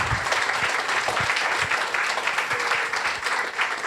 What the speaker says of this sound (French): Et peut-être un applaudissement pour notre auteur Jean-Guy Talamone ici présent